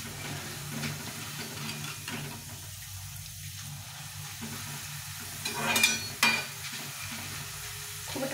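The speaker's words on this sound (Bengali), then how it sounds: "নেড়ে নেড়ে ভাজতে হবে।" Small diced potatoes frying in oil in a pan, a soft steady sizzle under quiet scraping as they are stirred, with a couple of brief louder clatters of the spatula partway through.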